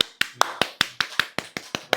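Sharp hand claps ring out about ten times in a steady, even rhythm, close and crisp, in a quiet home setting. There is no speech.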